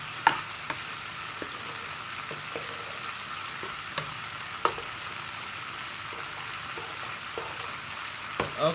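Old-timer goulash mixture is stirred in a pan, giving a continuous close sizzling, scraping hiss with scattered clicks of the utensil against the pan and no talk.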